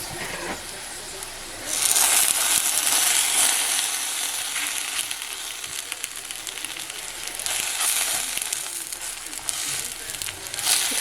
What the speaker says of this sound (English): this pan has vegetable oil. And all you're going to do is brown them on each side